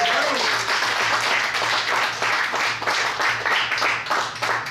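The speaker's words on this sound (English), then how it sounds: "That was not pity applause. They were truly impressed." A theater audience bursts into dense, loud, sustained applause after a magic trick, the clapping rolling on continuously for the whole stretch.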